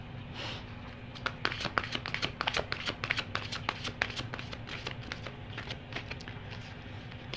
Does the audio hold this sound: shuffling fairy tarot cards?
yes